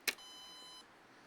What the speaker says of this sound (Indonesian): Kita coba ambil casnya dulu untuk tes charging. Oke, kita colokkan cas di DC nya.